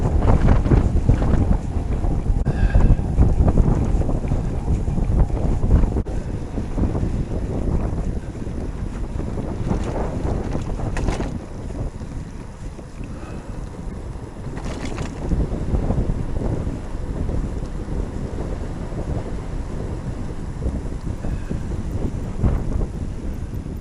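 Strong wind buffeting the microphone during an e-bike ride on quiet roads in the Lincolnshire Wolds, a loud continuous rushing roar that swells and eases for the whole stretch, with no talking.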